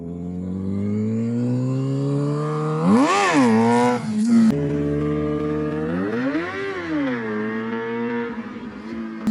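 Motorcycle engine revving hard in first gear during wheelie attempts on a bike with a burned clutch, close and loud, rising and falling in two big surges with sustained tone between them.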